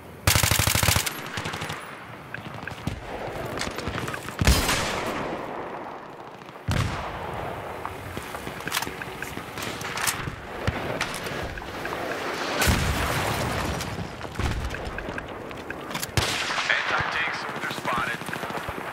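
Gunfire in Battlefield 3 Conquest infantry combat on Sharqi Peninsula: rapid machine-gun bursts and single sharp shots crack close by, with heavier booms mixed in across the whole stretch and occasional voices underneath.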